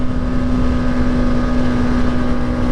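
A Bajaj Pulsar NS 200 motorcycle engine holds a loud, steady drone with a strong sustained tone, heard close and alone without talk.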